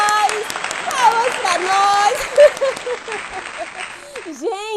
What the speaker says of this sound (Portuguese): Palmas pra nós!